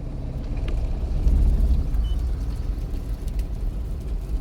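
A manual car moves off as the clutch is released, with a steady, close, low engine rumble that swells briefly and then settles.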